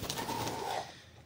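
Pet pigeons coo softly for about a second, a low murmuring call close by, then fading out.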